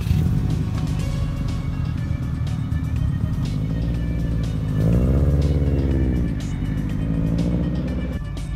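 A car engine idles and runs steadily throughout, a loud low rumble with a brief rise in pitch midway as it revs, then settles back to a steady hum.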